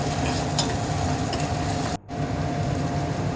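Potatoes and onions fry and are stirred in a hot pan. A dense, steady sizzle runs throughout and drops away for a moment near the middle.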